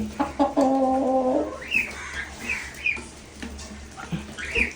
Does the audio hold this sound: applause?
no